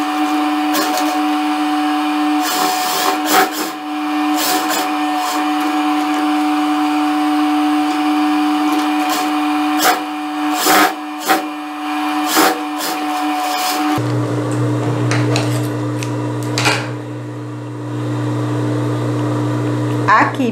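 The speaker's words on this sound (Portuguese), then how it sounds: "Vou trazer aqui para a máquina, vou passar a costura com a margem só de meio centímetro." A sewing machine stitching a seam with a half-centimetre margin on slippery blouse fabric, a loud steady motor whir with a constant hum shifting in pitch partway through, under occasional speech and handling clicks.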